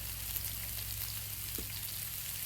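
Frozen hash browns and bacon frying in oil on a Blackstone griddle, with a steady, close, dense crackling sizzle that continues evenly throughout and no voices over it.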